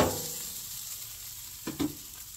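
Potatoes frying in a pan give a steady, faint sizzle, and near the end two short scraping stirs sound close by.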